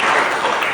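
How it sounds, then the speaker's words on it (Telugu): A dense wash of applause from a congregation at a Good Friday church gathering. The clapping is loud, close and continuous for a brief moment, with no voices over it. "గట్టిగా ఒకసారి చప్పట్లు కొడదాం."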